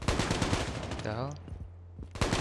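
Gunfire in the Call of Duty Mobile video game, loud rapid bursts at the start and again at the end, separated by a quieter stretch with a tonal in-game sound and faint voice.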